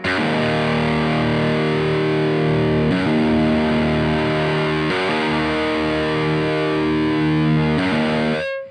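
An electric guitar played through a Laney Ironheart amp plugin gives a loud, heavily distorted tone, with sustained chords that change a few times and no talk.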